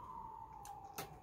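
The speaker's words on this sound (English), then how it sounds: "as the sirens keep passing by, making these noise" Emergency vehicle siren wailing faintly in the distance as vehicles pass, a steady high tone under low traffic rumble, with brief noise bursts.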